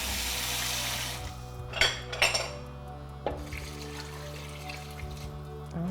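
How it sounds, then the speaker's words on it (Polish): Water runs from a tap, then a frying pan clanks and scrapes a few times as vegetable leftovers are rinsed off, close by and without talking. "opłuczę jeszcze patelnię z pozostałości po warzywkach"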